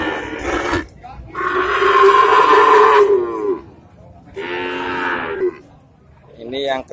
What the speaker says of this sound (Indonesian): suara pedet.